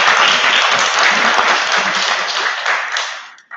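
A lecture audience gives sustained, dense applause of welcome for a guest, loud and steady throughout before fading out at the very end, with no talk over it.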